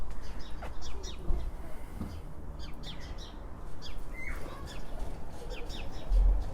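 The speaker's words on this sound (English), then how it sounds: "Listen to the birds." Several birds chirp and sing in short bursts in a garden against a quiet outdoor background, the calls light and scattered, some near and some farther off.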